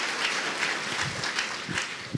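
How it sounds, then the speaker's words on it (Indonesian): An audience applauding at a TV talk show event, a dense wash of clapping that stays steady and fairly loud for about two seconds, with no voices over it. "kita berikan aplaus untuk yang hadir semua"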